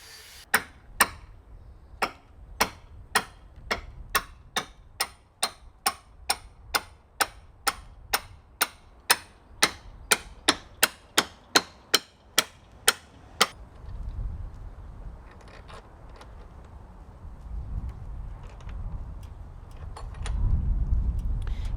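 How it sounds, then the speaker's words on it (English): Beams being bolted into place on a backyard solar shed frame: a long run of sharp, evenly spaced metallic clacks, close and loud, about two dozen in steady rhythm, then stopping as low rumbling handling noise and faint knocks take over. "It feels good to get these beams bolted into place."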